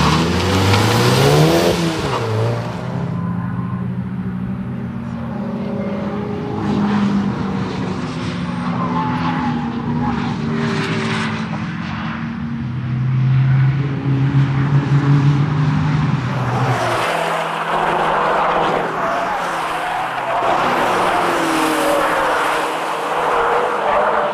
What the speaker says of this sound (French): une vraie petite voiture de course